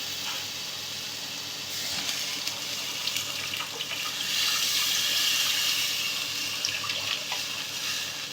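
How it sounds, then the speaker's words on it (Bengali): Water pours steadily into a hot pan of fried spice masala for dhokar dalna, a continuous hissing splash that swells midway, fairly faint with no talk. "এবার আমি এতে জল দিয়ে দেবো।"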